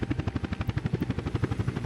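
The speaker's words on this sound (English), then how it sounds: "I mean, clearly a cargo helicopter, right?" A cargo helicopter in the city-building game Workers and Resources, its rotor beating in a fast, steady thump over an engine drone, close and continuous.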